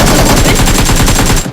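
Rapid automatic gunfire in a squad shooter video game, a loud, dense burst of evenly spaced shots fired close up that cuts off at the end.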